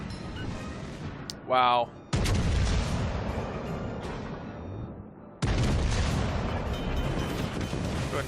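Heavy naval gunfire from a New Mexico battleship in World of Warships Legends, two loud, long rumbling booms that fill the space, with a short spoken exclamation just before the first blast.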